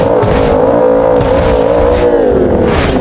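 A sedan's engine drones and revs steadily throughout while offroading through snow in GTA 5, loud and close with a slightly wavering pitch and no pause.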